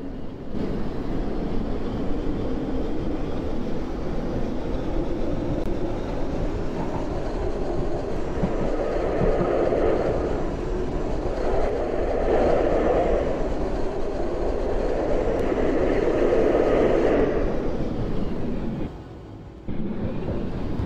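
A tram in a Roblox game rolls along steadily with a low rumbling drone and faint rail clatter, the motor tone swelling and easing, no voices.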